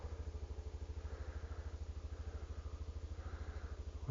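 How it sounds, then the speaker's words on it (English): A Honda CT125 Trail 125 motorcycle idles while warming up outdoors in southern Arizona, a steady low rhythmic engine putter running evenly and fairly close throughout, with no talking. "Let the bike warm up here a minute."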